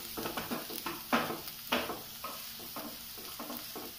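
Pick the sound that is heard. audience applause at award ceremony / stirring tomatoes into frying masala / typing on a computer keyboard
stirring tomatoes into frying masala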